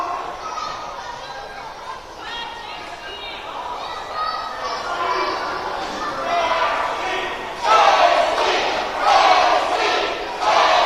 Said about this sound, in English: Crowd behind Moore.